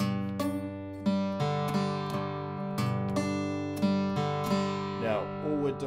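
Acoustic guitar strummed through open chords with extra notes added on top, a lesson version of a song; steady close-miked strums ring out one after another with no talking.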